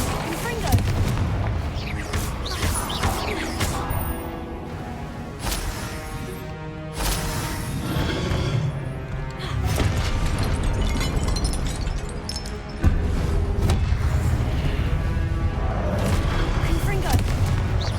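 Confringo fire-spell blasts in the video game Hogwarts Legacy, a dense, loud barrage of repeated booming explosions and crackling impacts over battle music, with a voice calling out during the fight.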